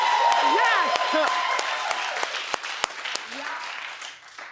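A studio audience on a talk show claps steadily and loud, with people talking over the applause as it fades slightly toward the end.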